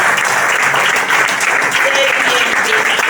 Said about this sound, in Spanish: la comunidad cristiana Nueva Alianza le brinda también un fuerte aplauso